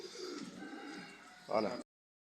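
Soft, low cooing of black pigeons murmurs through a short stretch, ending in a slightly louder burst before cutting to silence.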